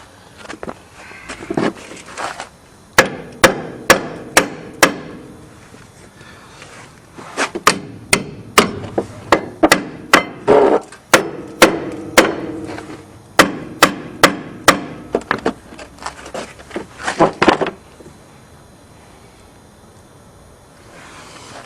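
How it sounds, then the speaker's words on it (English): Repeated sharp metallic hammer strikes drive a pressed-in ball joint into a car's suspension using a bar, in bursts, loud and close, with short pauses between groups of blows. "hit your hammer up here and use the bar to knock it in here and here"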